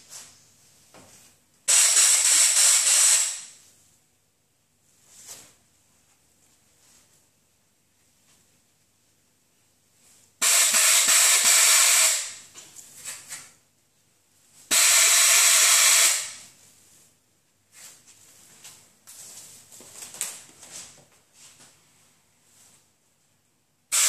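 Aluminum oxide abrasive blasting on a weld of a 2009 Honda Civic radiator support, using a nozzle tip sealed to the metal that collects spent media: three loud, harsh hissing bursts of a few seconds each, with quieter fumbling noises between them.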